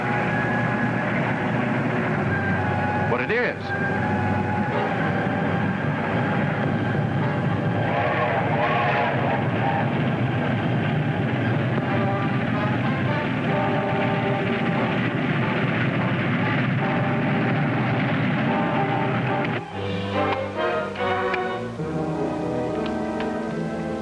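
A train rumbles steadily through a scene from a 1953 film serial, a dense, loud roar that holds for about twenty seconds before shifting, with brief spoken lines heard over it.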